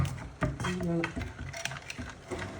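Neyyappam batter being mixed and beaten gives close, busy stirring and slapping sounds with light clinks of utensil on a vessel, continuing steadily throughout.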